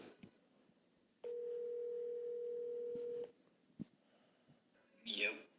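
A steady telephone dial tone holds for about two seconds, then cuts off, followed by a few faint clicks and a brief chirp near the end, with quiet room tone and no talk.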